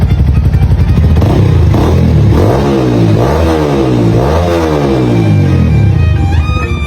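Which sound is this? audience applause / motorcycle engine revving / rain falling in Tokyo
motorcycle engine revving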